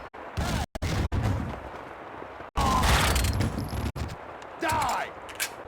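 In Max Payne 2, a grenade goes off as a loud, booming burst partway through, set among sharp gunfire cracks and shouting voices.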